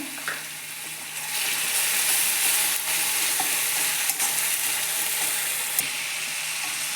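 Ginger-garlic paste frying with onions for a spicy chicken curry, a bright steady sizzle that swells after the first second, with occasional spoon scrapes and a couple of crisp clicks against the pan.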